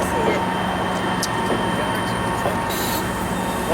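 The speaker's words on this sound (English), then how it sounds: "That's a big train." A large passenger train with a caboose at the Agawa Canyon tour station near Sault Ste. Marie, giving a steady rolling rumble and hum with brief squeals and clanks throughout, close by and loud, with a little faint talk.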